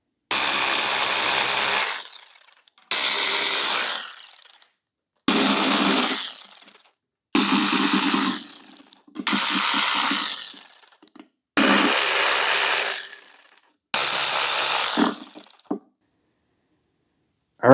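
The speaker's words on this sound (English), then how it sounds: "I think it's time to get these valve covers off." Ratchet working loose the valve cover bolts on a dirty junkyard 360 Magnum engine, heard as seven loud bursts of rapid clicking, each about two seconds long and separated by short pauses, with no talking.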